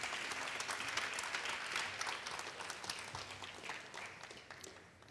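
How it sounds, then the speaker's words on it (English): Sustained audience applause for panelists at an ocean summit in Genoa, a dense wash of many hands clapping that holds steady for several seconds, then slowly thins toward the end. "Please, a round of applause for our panelists."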